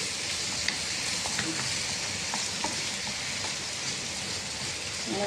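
Chicken liver fries in a pan with a dense, continuous sizzle like steady rain, punctuated by a few faint clicks of stirring, heard close up with no talking.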